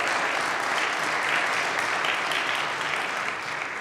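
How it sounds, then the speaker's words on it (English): An audience in a college chapel applauds a professor, dense steady clapping from many hands that holds loud and even for several seconds before easing slightly at the end. "It's Professor Jim Barnes, a man who deserves your applause."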